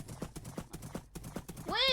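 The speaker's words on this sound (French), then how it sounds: "je suis en train de galoper sur un petit chevaux" A horse in a video game gallops through a snowy biome with steady, close clip-clop hoofbeats, ending in a short whinny.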